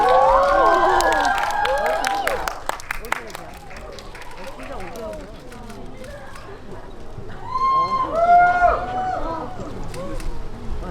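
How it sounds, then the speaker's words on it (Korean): A movie talk audience welcomes director Lee Seok-hoon and actors Hyun Bin and Jin Seon-kyu for Confidential Assignment 2: International with clapping mixed with excited shrieks and cheers that rise, ease off, then surge again near the end. "큰 박수로 맞이해주세요."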